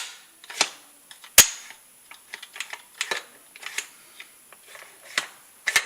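An ATI adjustable six-position tactical shotgun stock being moved through its settings gives a run of sharp, close mechanical clicks and clacks at irregular spacing, one much louder snap near the start, with quiet gaps between and no voices.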